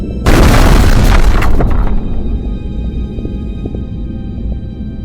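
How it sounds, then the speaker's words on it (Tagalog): Loud booming explosion with a sharp crackling burst at onset, then a long rumbling decay that fades over several seconds, heard alone without voices. "Isang puting araw ang sumabog sa gitna ng mga lungsod na sinundan ng iba pang pagsabog."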